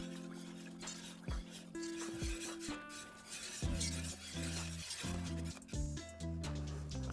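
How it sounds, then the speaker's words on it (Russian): Boiling juice thickened with flour being stirred in a pot for churchkhela, with repeated spoon scrapes and clinks against the pot over a background of music and no speech. "И постоянно помешиваем."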